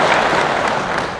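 Loud, dense applause from an audience at a political speech, a continuous close wash of many hands clapping together.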